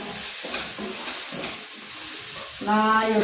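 Ground coriander, garam masala, black pepper and turmeric sautéing in a pan for prawn biryani, a close continuous sizzle and hiss with faint stirring, joined near the end by a louder tonal hum.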